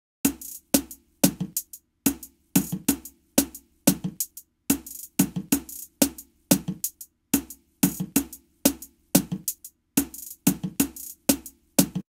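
A programmed zouk drum groove in Logic Pro X gains a second hi-hat layer that drives the beat. Dense, crisp, syncopated hits repeat over the kick and snare, steady and close, with no voices.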